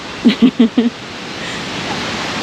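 Steady broadband rush of a waterfall fills the clip, with four short low thumps or voice-like bursts near the start over the constant roar.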